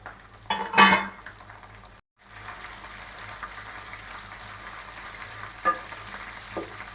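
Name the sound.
dried red chillies frying in oil while being stirred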